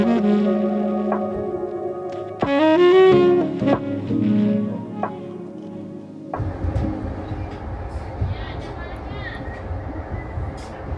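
An overnight sleeper train travelling from Da Nang to Saigon: a steady, dense rolling rumble of the carriage on the rails, close and continuous, with music and onboard sounds heard before it.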